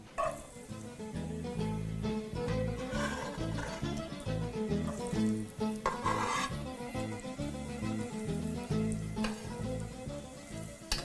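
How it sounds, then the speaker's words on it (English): Onions sizzle and fry steadily in a hot pot for a rajma masala dish, a dense continuous crackle with occasional stirring scrapes, close and moderately loud. "we are going to proceed to add our onions into the bowl"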